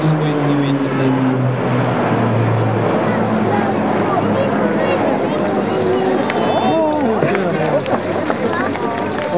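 Croatian aerobatic team aircraft performing a final break manoeuvre at an air show in Karlovac, a broad roaring engine noise under a crowd and a public address voice, with tones shifting as the planes pass.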